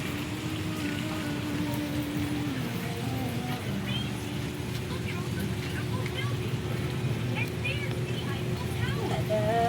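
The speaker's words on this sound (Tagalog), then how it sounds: "Kusog ulan dito" Heavy rain falls steadily as a dense, even patter, with people talking over it and a faint engine hum in the background.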